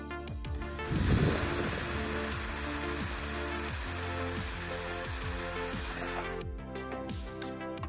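A power drill bores holes through the aluminum vertical stabilizer skin of a Rans S-21 aircraft, a steady whining motor hum for about six seconds with a grinding bite at the start, close up and alone.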